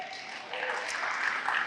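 Church congregation applauding, a dense steady patter of many hands that swells slightly partway through and continues to the end.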